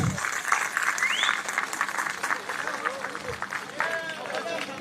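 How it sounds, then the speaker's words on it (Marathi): A crowd at a municipal election rally in Nanded applauds to welcome Balasaheb (Prakash) Ambedkar: sustained, loud clapping with cheering voices and chatter mixed in throughout. "साहेबांचं टाळ्या वाजवून आपण स्वागत करावं"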